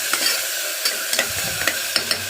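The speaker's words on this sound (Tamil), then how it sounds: "இந்த வெங்காயம் பாதியாக ஆகிற அளவுக்கு வதக்கிடலாம்" Onions, ginger and garlic sautéing in a pan for a Tamil-style meat curry, a soft steady sizzle broken by several sharp scraping clicks of a spoon stirring, close and alone with no talk.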